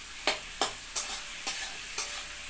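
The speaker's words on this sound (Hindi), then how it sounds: "तो चलिए मैं इसको मिक्स कर देती हूँ फ्रेंड।" Onion and masala being stirred in a pan for a cauliflower-potato sabzi cooked over a wood-fired chulha, five evenly spaced scraping strokes cutting through a soft, steady sizzle, close and without voices.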